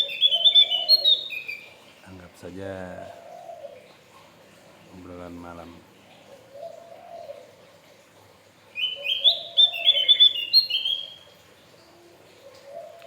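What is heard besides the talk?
Javan opior garden bird singing at night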